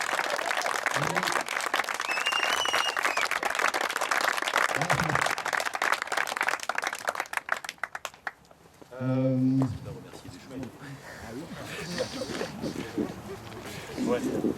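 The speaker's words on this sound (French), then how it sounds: "je voudrais qu'on applaudisse les deux petits sœurs là-bas" At a youth sports tournament, the audience claps and applauds in a busy, mixed burst that fades out. Someone talks before and after the clapping.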